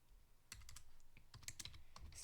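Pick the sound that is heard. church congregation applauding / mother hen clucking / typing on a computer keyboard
typing on a computer keyboard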